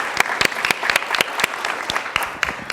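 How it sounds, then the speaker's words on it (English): Audience at a patient and caregiver panel on living with a brain tumor claps for a patient introduced on stage, a sparse, uneven burst of individual claps from a modest crowd, fairly close and without talk over it. "please give him a round of applause."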